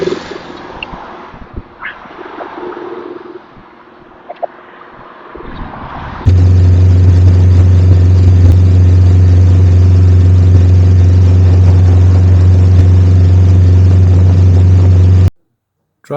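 A car engine drones steadily at high, constant volume while driving over a bridge, preceded by several seconds of quieter cabin and road noise, with the loud hum continuing unbroken before cutting off abruptly.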